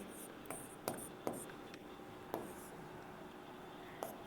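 Chalk or pen writing a chemical equation on a board in a chemistry class, a series of faint scratchy strokes and taps at irregular intervals, close and quiet.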